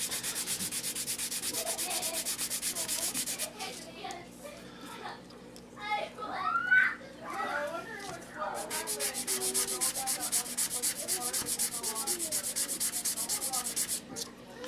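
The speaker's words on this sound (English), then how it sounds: "as you sand the edges" Sandpaper rubbed along the edges of a wooden model rocket, a close, continuous rasping scrub that pauses briefly midway while a voice talks, then resumes steadily.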